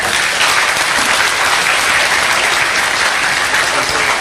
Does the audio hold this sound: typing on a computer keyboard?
no